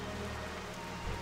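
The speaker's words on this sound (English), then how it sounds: "I guess that's all it does is rain" Steady rain from World of Warcraft: The Burning Crusade Classic, a constant even patter filling the background at low level with no other sounds or talk.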